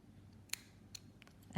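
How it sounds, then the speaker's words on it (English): Scissors snip through yarn while a crocheted Christmas table mat is being made, a few faint, quick clicks close by in a quiet room, with no voices. "cut my yarn"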